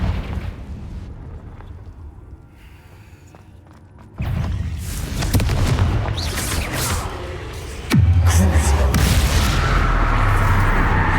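Confringo blast spell cast in Hogwarts Legacy PC gameplay, heard as loud booming explosions with sharp onsets at about four and eight seconds, followed by rumbling game sound that stays dense and powerful.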